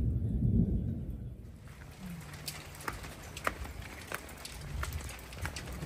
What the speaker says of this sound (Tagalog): Tapos kumukulog, kumikidlat,